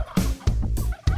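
Turkeys gobble loudly and close in four rapid rattling bursts, evenly spaced with brief pauses between, with no talk.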